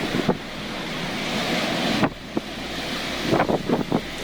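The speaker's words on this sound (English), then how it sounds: "A terrible hurricane swept in from Greenland, turning the European coastline into a massive water park." Hurricane-driven storm surf and gusting wind batter the European coastline, a constant roar of wind noise on the microphone with waves crashing and surging in repeated bursts.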